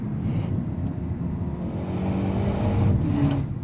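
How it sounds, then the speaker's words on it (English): A 2020 BMW 228i xDrive Gran Coupé's 2-liter engine revs steadily with a low, throaty burble, rising slightly in pitch toward the end, heard close and continuous. "it's got that burbly 2-liter sound"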